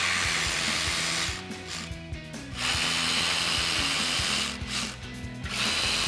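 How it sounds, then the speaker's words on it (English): Ratchet driving a T40 Torx socket to back out bumper screws on a 2021-2026 Ford Bronco, giving a loud, close, continuous mechanical whirr in two long bursts separated by a brief dip. "we're going to remove the 3 T40 Torx screws at the bottom section of the top of our bumper"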